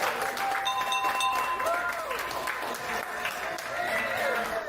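Applause from a crowd at the American Cancer Society's Hope Lodge on an October morning, as a cancer patient rings the bell to mark the end of treatment. Steady clapping continues throughout at moderate distance, with voices mixed in.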